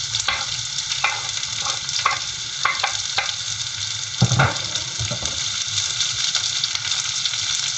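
Chopped onion and curry leaves sautéing in a pan for a homemade rasam, a steady close sizzle broken by several sharp bursts of crackling and spatter, with no talking.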